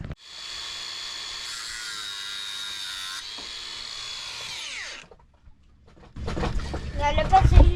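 A power tool, likely an angle grinder or saw, cuts through bolts on a boat outboard motor, a steady loud whine for about five seconds that winds down, followed by a brief pause and then talking.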